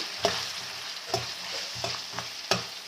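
Curry leaves fry in a pan for chicken curry, sizzling steadily while a spoon scrapes and stirs in four or five sharp, evenly spaced strokes, close and clear with no talking.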